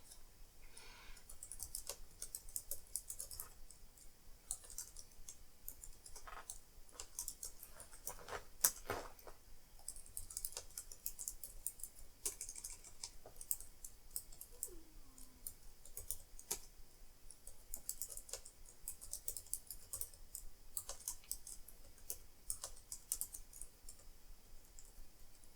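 Typing on an Apple IIgs computer keyboard, a quiet, steady run of close clicking keystrokes with brief pauses and a few sharper key hits, no talking.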